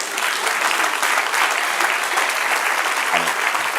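A church congregation applauds during a pastor's Bible class, a dense sustained clapping from the crowd; a voice briefly breaks in near the end.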